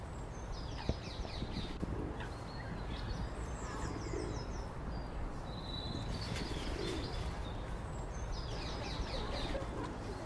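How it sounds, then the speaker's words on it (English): Feral town pigeons courting in a London park in early spring, soft repeated cooing faint amid a steady wash of outdoor ambience, with scattered higher bird chirps overhead. "These are feral pigeons, ordinary town pigeons, courting."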